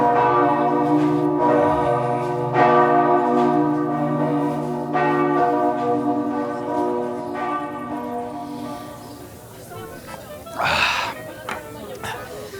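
Church bells ring in slow, resonant strikes in Vojvodina, Serbia, their tones overlapping and decaying, then fading out as a voice gasps nearby.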